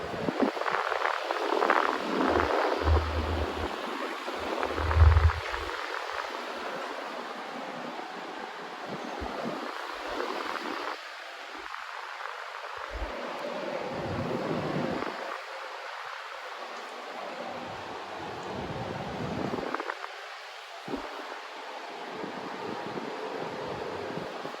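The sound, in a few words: 1950s/60s Limit 16-inch desk fan running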